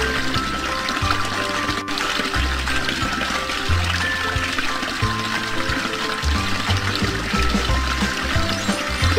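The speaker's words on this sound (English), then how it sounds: "Please use the shower." Shower water running in a princess palace house-cleaning video game, a steady splashing stream with light musical tones pulsing underneath throughout.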